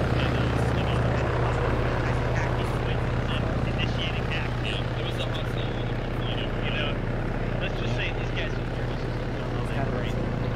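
A helicopter landing in a compound during a military video game, its steady rotor and engine drone continuous and fairly loud throughout, with voices talking over it.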